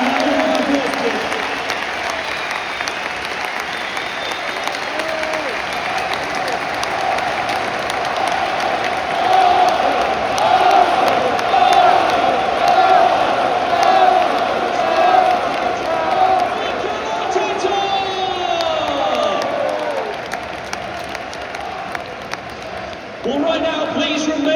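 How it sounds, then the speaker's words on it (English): A stadium crowd applauds and cheers Arsenal's players in a long, steady roar of clapping that swells in the middle, with voices mixed through the noise, then fades sharply near the end. "a big round of applause, please"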